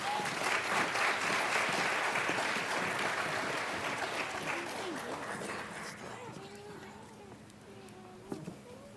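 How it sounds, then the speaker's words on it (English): Audience applause for pageant contestants at Czhilispiel, loud clapping that fades out after about six seconds, leaving a quiet room with faint voices and murmurs. "give these ladies a round of applause"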